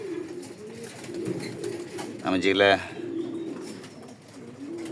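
Racing and breeding pigeons coo softly in a loft, a short burst of cooing standing out briefly amid low background noise while someone speaks a few words.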